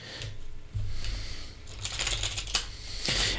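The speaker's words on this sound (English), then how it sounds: "I was shuffling for Ali." Tarot cards are shuffled close by in soft riffles and brisk flutters, a few bursts of papery slapping over a quiet room with no speech.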